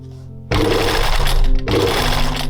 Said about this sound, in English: I pinned them in place and then sewed both sides on.